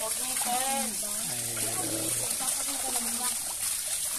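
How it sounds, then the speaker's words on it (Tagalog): Free-flowing water pours and splashes steadily, a close, continuous broadband rush, while people talk over it throughout. "Ito guys, unlimited yung tubig oh."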